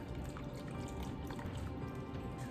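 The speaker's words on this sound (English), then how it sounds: "I will strain our whey and curd mixture straight into my bowl" Whey drips and trickles steadily through a strainer into a bowl while making paneer, soft and close, a continuous light dribbling with no voices.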